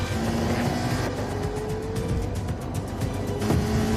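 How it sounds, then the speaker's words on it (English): A Ferrari with a gated manual gearbox runs loudly up close, its engine revving with pitch changes as gears are rowed, a strong continuous roar. "Let those car sounds breathe a bit"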